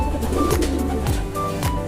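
Racing pigeons coo in low, repeated throaty calls, close by, with soft rustling and faint background noise and no talking.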